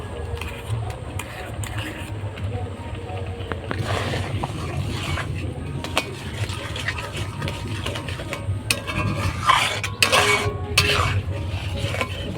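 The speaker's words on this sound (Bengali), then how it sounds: "গুড় আর চিনি দিয়ে ভালোভাবে মিশিয়ে নিচ্ছি।" Sugar and jaggery are stirred together in a pot for rice barfi, giving steady scraping and light metallic clinks over a low continuous hum, with sharper knocks toward the end.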